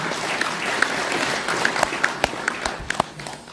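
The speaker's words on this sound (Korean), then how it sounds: "큰 박수, 격려의 박수를 좀 부탁을 좀 드리겠습니다." Audience applause of encouragement at a book launch concert in Korea, close, lively clapping with distinct individual claps popping out of a dense crowd wash, loud and continuous throughout.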